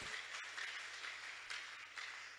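A congregation claps and cheers for the king during a French-language prophetic church service, a steady wash of applause holding throughout with no speech over it.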